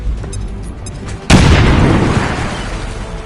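A grenade blast in XCOM 2 erupts suddenly after a brief lull, a loud, deep boom with a long rumbling decay that fills the rest of the moment.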